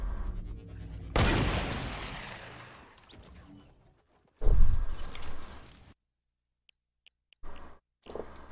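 Video game gunfire comes in bursts: a loud volley rolls out and fades, then a second sharp burst follows after a short gap. Brief clicks and a final short burst come after a stretch of near silence.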